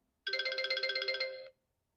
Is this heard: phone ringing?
yes